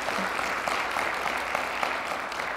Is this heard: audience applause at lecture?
yes